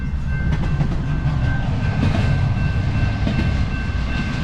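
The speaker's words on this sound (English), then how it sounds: "this is a lot longer train than I thought it was" Long freight train rolling past nearby, a loud, continuous rumble with rattling wagons and rhythmic clatter, no voices present.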